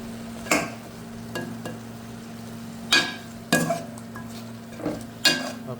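Mutton karahi frying with ginger, garlic and green chili paste in a pan, a low continuous sizzle broken by repeated scraping knocks of a spoon stirring, no voices.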